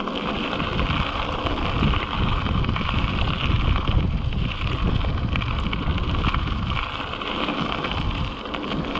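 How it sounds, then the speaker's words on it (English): Wind blowing outdoors on the Middle Fork of the South Holston River, a loud continuous rush and buffeting against the microphone throughout, with no talk. "The wind is definitely blowing out here."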